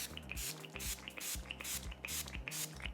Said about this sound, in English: Now I'm going to take the setting spray